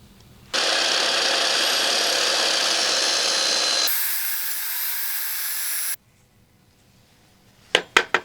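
A power saw slices through a roll of masking tape, whining loud and continuous for several seconds with a pitch change partway through, then stopping, followed by a few sharp knocks.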